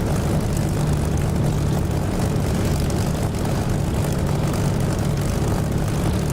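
A propeller aircraft in the flight sim DCS drones continuously, a dense, loud, unchanging engine and propeller roar filling the whole stretch with a faint low tonal hum beneath.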